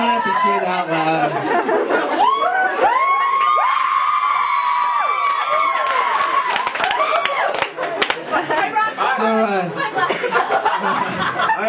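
Birthday party guests cheer, whoop and clap together in a lively room, a sustained burst of voices and applause with chatter running throughout.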